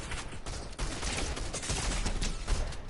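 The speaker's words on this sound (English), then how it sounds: "Gunshot." Rapid video-game gunfire rattles in dense bursts of overlapping shots, loud and continuous for a few seconds with a brief gap before resuming.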